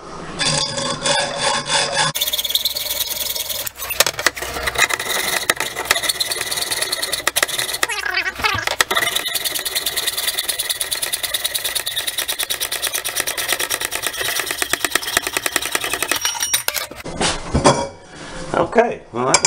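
A power tool cuts through tile, a loud, steady grinding and rasping that runs without a break for about fifteen seconds, starting and stopping abruptly.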